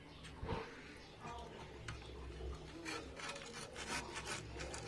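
Large fish of about two and a half kilograms being cut on a boti blade: a close, continuous rasping and scraping with wet rubbing and occasional ticks, fairly quiet and with no clear talking.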